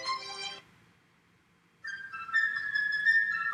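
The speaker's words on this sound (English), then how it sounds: "That's a flute playing the bird." Flute plays a short, high, bright bird theme from Peter and the Wolf, a quick trill-like burst, a pause, then a longer fluttering phrase, faint and alone.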